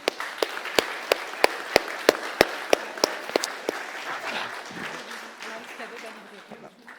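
A church congregation at a Pentecost Sunday service applauds, with crisp, rhythmic nearby claps over general applause that gradually thins out, with voices underneath.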